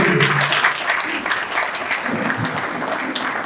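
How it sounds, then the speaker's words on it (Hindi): Applause from an audience at a community meeting in Indore, a moderately loud burst of clapping that carries steadily and eases slightly toward the end. "आपकी तालियां खड़े होकर होंगे"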